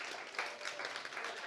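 A conference audience claps together in a dense, steady wash of applause that holds at an even level throughout, with a slight swell partway through.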